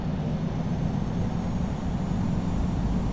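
A Southwest Boeing 737 airliner taxis at San Francisco in the Infinite Flight game, producing a steady, loud jet engine drone with no change in level.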